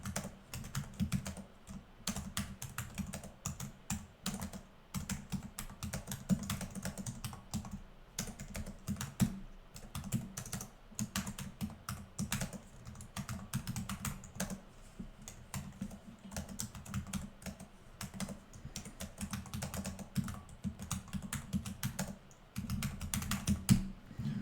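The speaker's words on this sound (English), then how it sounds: "an idea of how the keyboard sounds" Steady, rapid typing on a Tuxedo Stellaris 16 Gen5 laptop keyboard, close up, with soft clicky keystrokes in quick irregular bursts and no voices.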